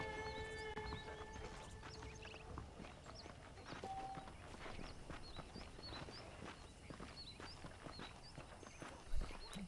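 Horse hooves clip-clop at a walking pace in Red Dead Redemption, a steady rhythm of soft, evenly spaced steps, moderately close and fairly quiet, with faint background ambience.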